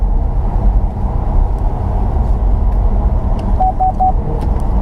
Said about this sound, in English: Oh, lane departure warning, letting you know you're veering a little too.